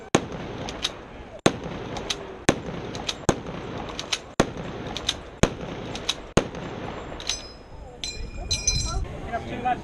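Weapon firing at an outdoor military firing display in Sheffield, a series of sharp, loud cracks spaced about a second apart, each with a short echo, followed by metallic clinking near the end.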